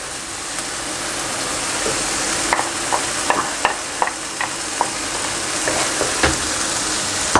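Chicken and vegetable pot pie filling mixed with white sauce is stirred in a hot pan, giving a steady sizzling hiss broken by scattered spoon scrapes and soft clinks.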